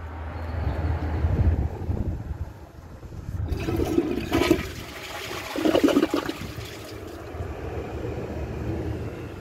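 A Glacier Bay one-gallon ultra-high-efficiency toilet flushes a washcloth down with its bowl topped up with water. The flush rushes loudly and close, surging twice before fading to a steady trickle as the tank refills.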